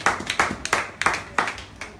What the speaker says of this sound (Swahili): Hebu tupigie Bwana makofi makubwa.